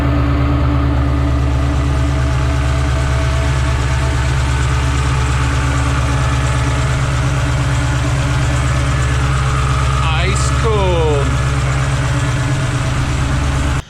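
A supercharged 2016-2024 Camaro fitted with a Roto-Fab 5-inch Big Gulp intake idles loud and close, a steady continuous engine drone with a brief rising whine near the end.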